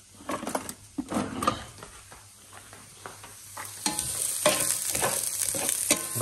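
Onions frying in olive oil for rissoles, a close crackling sizzle punctuated by irregular knocks and scrapes of a utensil, building to a fuller, steadier fizz toward the end.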